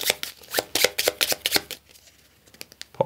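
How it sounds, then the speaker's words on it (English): A deck of Automa cards from the Wingspan board game being riffle-shuffled at a table, a quick burst of crisp close flutters and taps, then a few lighter card knocks as the deck settles. "Give that a quick shuffle."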